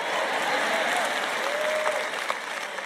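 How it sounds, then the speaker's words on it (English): Steady, dense applause from a live audience at a Christian teaching session, sustained at an even level throughout, with a faint murmur of voices underneath. "When you talk like this, sometimes the women clap and sometimes the men clap."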